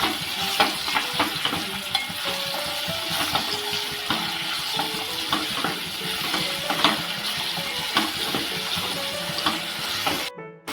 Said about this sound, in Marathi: एक वाटी कांदा टाकते आणि एक मिरची आता हे आपल्याला एकदम सोनेरी असं करून घ्यायचं